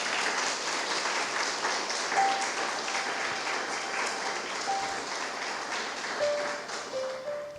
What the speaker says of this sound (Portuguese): Você pode aplaudir o Senhor aqui nessa noite.